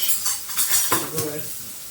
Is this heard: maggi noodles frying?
yes